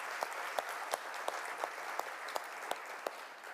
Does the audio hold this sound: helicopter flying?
no